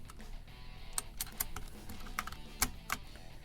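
Sharp plastic clicks and snaps from keycaps being pried off a BlitzWolf BW-KB1 compact 60% mechanical keyboard, several distinct close taps spaced irregularly over a quiet background.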